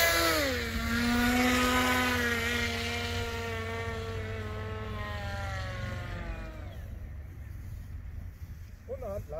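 Electric motor of a Punkair Wave 3.0 RC kite trike during a hand launch, a steady whining drone with rising and falling pitch that holds for several seconds and then cuts off, with background noise.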